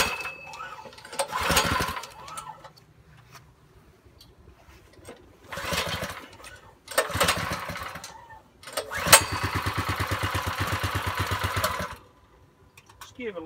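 Small Predator gasoline engine for a mud motor build, pulled to start in several short sputtering bursts, then running near and loud for a few seconds with a steady throbbing idle, with a voice talking between attempts.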